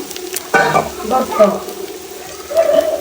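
Grated coconut fries in ghee in a pan, giving a steady close sizzle with bursts of crackle and stirring scrapes, while faint voices murmur in the background.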